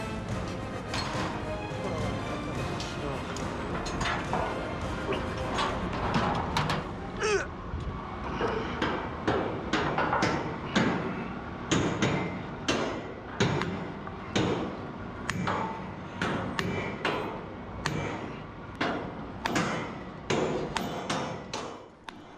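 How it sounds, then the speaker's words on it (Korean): Heavy hammer blows drive steel pins into the grooves of a tower crane mast during installation high above a skyscraper construction site. A steady, loud series of sharp metallic strikes, about one per second, follows an earlier stretch of busy site noise. "그 다음 작업은 홈에 핀을 넣어 고정하는 망치질"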